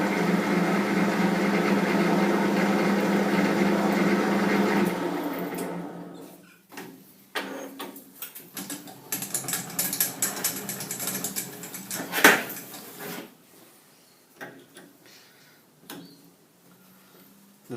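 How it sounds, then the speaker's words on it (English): A lathe at slow speed drives a small tap to start a fine thread: a steady mechanical whir for the first few seconds, then it stops and quieter ticks, clicks and handling knocks follow. "Now we'll just start this in the lathe and then we'll finish it with a tap wrench."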